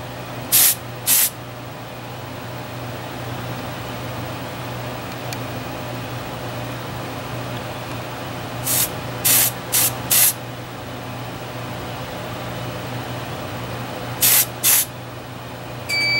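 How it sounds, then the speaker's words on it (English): Several short bursts of aerosol spray hissing, in groups of two to four, separated by a steady low hum in the room, the spray aimed at a home fire alarm detector during a system test. "You gotta keep spraying it."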